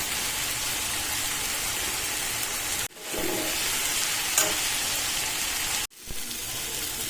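Dried anchovies, nethili karuvadu, fry in a pan with a steady, loud hiss and crackle. Two brief gaps break the sizzle, and no one speaks.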